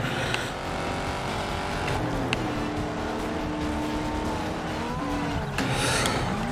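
Race cars roaring around a track in the Ford Racing 2 video game, a steady loud engine drone with rising and falling pitch and brief tire squeals, no voices.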